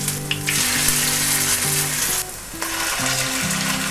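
Jute leaf pakoras sizzle steadily in hot oil, a loud, continuous crackling frying sound with faint shifting tones underneath and no talking.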